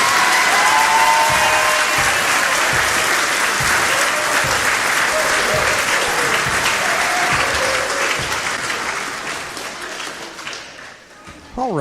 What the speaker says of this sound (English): One more applause for our graduating seniors.